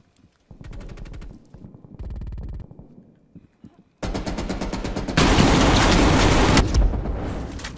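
Gunfire in the Call of Duty video game comes in rapid bursts, loud and close, over busy game noise.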